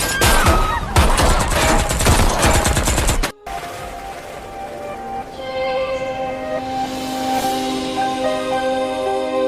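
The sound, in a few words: gunfire from armed group in film The White Storm 2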